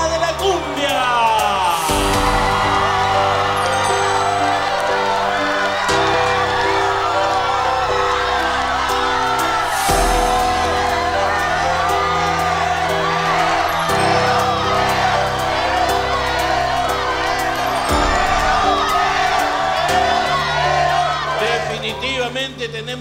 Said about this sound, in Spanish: Ahora vamos a pedir los aplausos para León